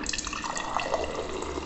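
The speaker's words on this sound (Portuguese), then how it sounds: "A pressão da água dele, gente, ela depende da sua saída de água." Water streaming from an Electrolux PE11X purifier, a close, steady splashing flow with dripping textures, constant in level and alone without talk.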